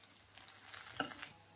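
Dried red chillies and green chillies fry in hot oil with a soft, steady sizzle, joined by a few faint stirring scrapes and one sharper crackle near the end; no one speaks.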